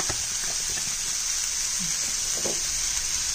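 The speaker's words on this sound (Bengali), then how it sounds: "এখন দেখি নাড়াচাড়া করে ভালো মতে ফ্রাই করব" Dried fish (shutki) with coriander and cumin powder frying in a pan, a steady hissing sizzle throughout, with faint scraping and clinks as it is stirred.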